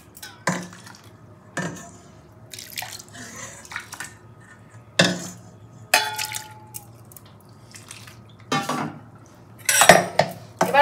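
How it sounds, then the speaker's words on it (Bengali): A spoon clinks and scrapes against a bowl while ground rice paste is stirred with hot water, sharp irregular knocks spaced by quiet gaps and soft wet sloshing between them, close and without talk. "এবার খুব ভালো করে এটাকে নেড়ে নিচ্ছি।"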